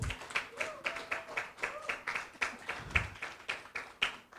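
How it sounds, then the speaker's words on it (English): Audience applause at the close of the Data Tamasha Africa data event, a steady run of hand claps through the whole stretch, with a few sharper individual claps standing out near the front. "So a round of applause to you all."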